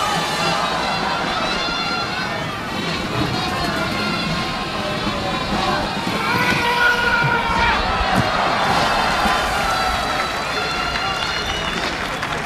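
A crowd at a jousting tournament in Sète applauds and cheers steadily from a distance, a broad wash of clapping and voices, while an announcer talks over it.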